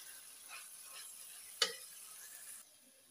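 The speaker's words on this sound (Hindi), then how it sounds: "ऐसे इस मसाले में मिक्स कर देंगे" Guar beans are stirred into masala in a pan, giving a soft, steady sizzle with light scraping strokes and one sharp clink of a utensil midway. The sound is faint and close, and the sizzle drops away near the end.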